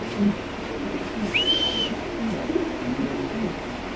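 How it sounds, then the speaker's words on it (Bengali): American fantail pigeons coo softly nearby, with a brief high whistling call partway through and no talking. "আমেরিকান ফ্যান্টেল কবুতর ব্ল্যাক কালারের"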